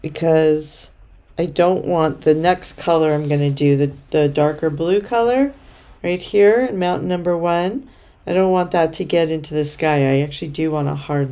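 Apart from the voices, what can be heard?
No everyday noises stand out.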